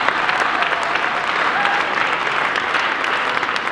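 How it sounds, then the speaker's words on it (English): Steady, dense applause from an audience at an evening event celebrating the Wake Robotics team, loud and sustained throughout with no break. "Another round of applause for Wake Robotics."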